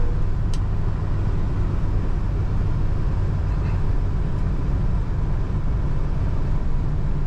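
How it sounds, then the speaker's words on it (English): A 1964 Chevrolet Impala two-door hardtop runs smoothly, its engine a steady low rumble heard close and constant from inside the car, with no voices. "This is a smooth running car."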